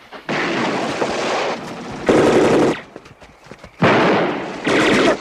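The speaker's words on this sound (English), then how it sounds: "Stop shooting, damn it!" Bursts of loud automatic gunfire in a film shootout, three long sustained volleys separated by short gaps, close and harsh with no talk over them.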